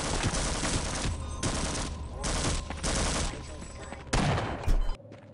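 Video game gunfire of loud, dense volleys that come in several bursts with short gaps between them, ending in a sharp final blast.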